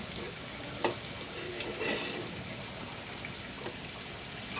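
Stem greens frying with grated coconut in a pan, giving a steady close hiss of sizzling oil with a few soft stirring scrapes and taps.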